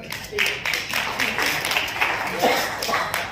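An audience at a Unani Day celebration at Golden Leaf Resort in Dhule applauds, producing a steady wash of clapping that runs throughout, with a voice speaking over it.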